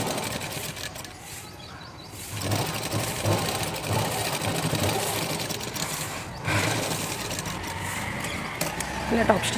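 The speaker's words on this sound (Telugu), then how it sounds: "ఇలా టాప్ స్టిచ్ చేసేసుకొని కుట్టేసేసుకోండి." A sewing machine runs steadily, top stitching a garment, its continuous mechanical whir briefly easing and then resuming while someone talks over it.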